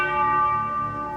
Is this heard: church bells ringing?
yes